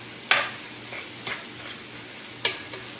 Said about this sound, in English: I'm sauteing ground turkey, peppers, onions together